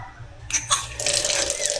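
A campsite sink tap at a camp in Tanay, Rizal turns on after a brief quiet moment, then water runs steadily into the basin at close range, with a few splashing bumps as the flow starts.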